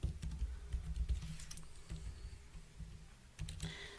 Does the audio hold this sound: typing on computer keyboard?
yes